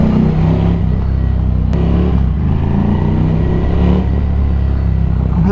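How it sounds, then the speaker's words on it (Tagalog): A 2015 Ducati motorcycle with low mileage runs its engine loudly and close by, a steady deep rumble with throaty revving that holds for several seconds and echoes slightly. "Lakas pa rin ng makina"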